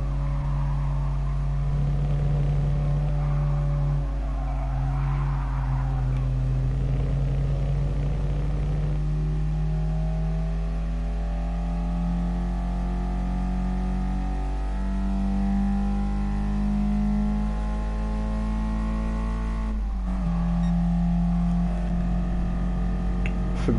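Racing car engine in GT Sport coming through the last corner, a steady droning tone that climbs and shifts pitch as it accelerates, loud and continuous without talk.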